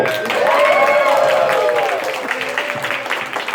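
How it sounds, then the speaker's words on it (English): An audience at a pony convention applauds steadily for a few seconds during a Quiplash game, dense clapping nearby, while a voice speaks over it with rising and falling pitch. "Round of applause for the main menu!"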